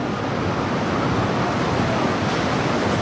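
Water surges through the breached temporary wall of a large hydroelectric dam with a continuous, dense, loud rushing roar. The roar holds steady throughout and cuts off abruptly at the end.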